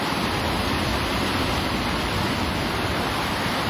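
Swollen Tapi river in Surat surging at full flood between its banks during rain, heard as an unbroken, heavy wall of rushing water, loud and near, with no talking.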